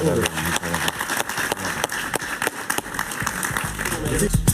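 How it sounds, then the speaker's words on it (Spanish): A studio audience on a television talk show claps in a brisk, uneven burst, with individual claps standing out close and sharp over a background murmur. "Un aplauso para Javier."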